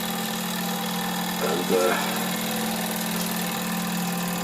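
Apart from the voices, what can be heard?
Wilesco D455 toy steam engine running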